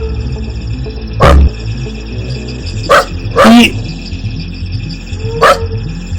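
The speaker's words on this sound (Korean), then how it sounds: "개 짖는 소리가 요란하게 나기 시작을 합니다." A dog barks loudly outdoors in several sharp bursts, a short flurry of barks spread across a few seconds over a steady background bed.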